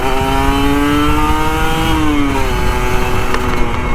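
Kawasaki Ninja RR 150 motorcycle engine revving steadily and loud, a sustained high whine with pitch that climbs, then drops near the two-second mark and settles, riding on an empty road.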